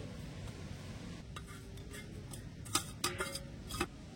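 Grated coconut stirred into hot salted water in a pot, with faint scraping and stirring under a low background hiss, then a few sharp metallic clinks of a utensil against the pot near the end.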